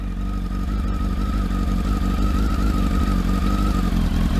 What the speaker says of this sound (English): So you'll hear the revs rise in a minute.